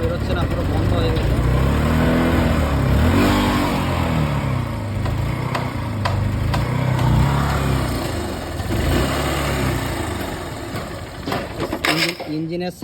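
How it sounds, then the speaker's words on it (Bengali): A rebuilt Honda CB Trigger motorcycle engine runs close by with a steady, throbbing idle and some revving, while a voice talks over it. "ইঞ্জিনের সাউন্ডও মোটামুটি সুন্দর হয়েছে"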